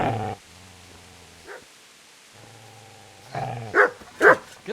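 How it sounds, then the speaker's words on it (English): A dog in Kingdom Come: Deliverance growls low and steadily, then breaks into a few loud, close barks, with a second rumbling growl in between and no talking. "Get away, you mutt!"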